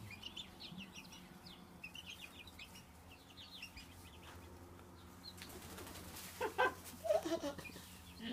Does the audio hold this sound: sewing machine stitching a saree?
no